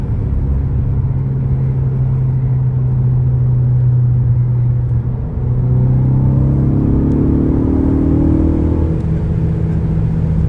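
A 2013 Ford Focus ST3 drives a curvy road, its engine a steady close rumble and whir inside the cabin, rising in pitch as it accelerates toward the end.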